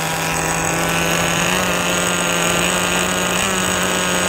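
A nitro-powered RC buggy engine, a Kyosho Neo Buggy FW06 type, idles loud and steady close by, holding a constant high-pitched buzz with no speech over it.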